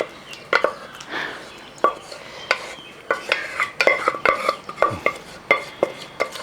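A spoon scrapes and clatters as chunks of beef and cooked tapioca are stirred together in a large pot, with repeated irregular knocks and scrapes up close.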